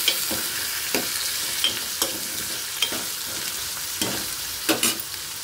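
Tomatoes fry in a pan with a spiced tempering for a spicy chutney, a close steady sizzle punctuated by regular spoon scrapes and taps against the pan about once a second.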